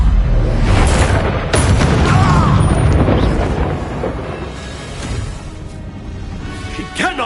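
A Repulsor spell blast in Hogwarts Legacy erupts as a loud, booming burst of force that rumbles and swells, then fades into lingering magical crackle and a whooshing tail.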